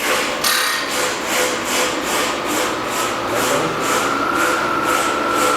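An Enco ProtoTrak 2-axis CNC vertical mill, model 949, with a variable-speed head and R8 spindle in high range, runs steadily with a close, even whirring drone and a soft rhythmic pulsing throughout.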